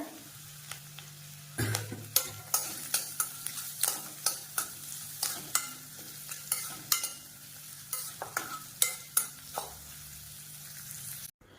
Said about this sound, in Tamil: சேர்த்துட்டு நல்லா வதக்கிக்கணும் இந்த வெங்காயத்தை